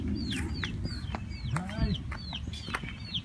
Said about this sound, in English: We got 4 birds, 1 big red star, 2 black australorps, and 1 Plymouth Rock.